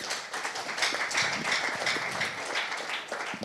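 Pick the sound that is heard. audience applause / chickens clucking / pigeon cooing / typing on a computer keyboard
audience applause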